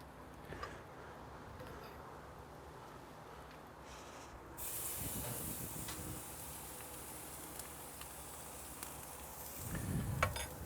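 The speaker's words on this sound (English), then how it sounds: "We're gonna get this guy on and get some sear on." Tomahawk steak searing on a very hot Komodo Kamado grill, a steady close sizzling hiss that jumps louder midway, with brief clunks from handling.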